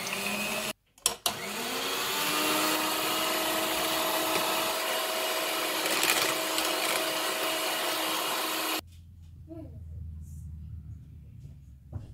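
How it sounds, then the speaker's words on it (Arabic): An electric mixer whips cream with powdered sugar and vanilla sugar, a loud steady whirring drone running for about eight seconds after a brief start, then cutting off to quiet. "غادي نخفق 200 ملل ديال كريمه الخفق، نعمل من سكر بودرة شويه وسكر فانيليا وغنخفقها"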